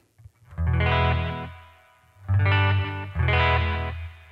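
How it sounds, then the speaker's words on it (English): Electric guitar run through a micropitch effect pedal with Topanga reverb, heard as three sustained, shimmering chords with detuned chorus-like thickness, each ringing about a second before fading. "Here's the effect with the micropitch on."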